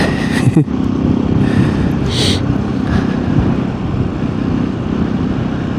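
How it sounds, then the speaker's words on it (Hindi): Steady close engine drone from a Hero Xpulse 210 motorcycle being ridden, a continuous low rumble with wind noise throughout and no talk. "आज काफ़ी दिन बाद एक्सपल्स चला रहे हैं"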